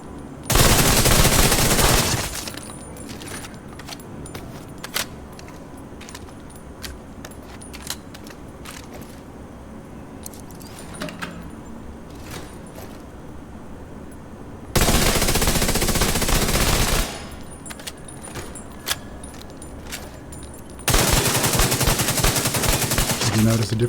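Burst-fire gunfire from FAMAS and ACR rifles in the video game The Division 2, loud dense volleys at the start, middle and end, with quieter scattered shots and mechanical clicks between them.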